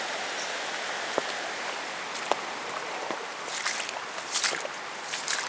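Steady rain hisses across the whole clip over a soaked field, with a few scattered drips and patters standing out nearby.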